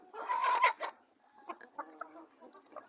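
New Hampshire chickens, four hens and two roosters, cluck softly and close by, a quick burst of calls followed by scattered shorter clucks, with no other sounds around them.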